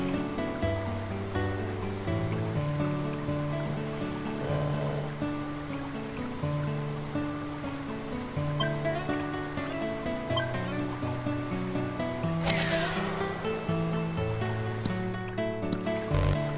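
Water flows continuously through an underground channel in the video game Dark Cloud 2, a steady rushing wash layered with looping game music tones, with a brief brighter burst of effect near the end.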